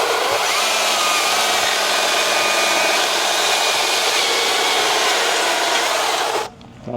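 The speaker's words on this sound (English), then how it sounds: "So the chain's dragging through the wood." A 20-inch chainsaw with a sharp chain dragging through dry wood, a loud steady high-revving roar that holds for several seconds before dropping away at the end.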